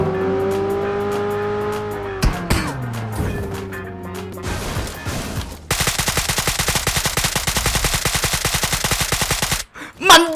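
An ACE32 rifle fires in PUBG Mobile: a low engine-like hum and scattered thumps give way to a long, loud, rapid automatic burst lasting about four seconds, then stops abruptly.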